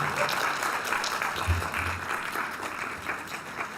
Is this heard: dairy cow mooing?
no